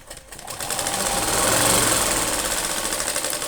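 A sewing machine stitches tucks into a blouse with a fast, rhythmic mechanical whirring. It is loud and close, rising quickly and running steadily for about three seconds.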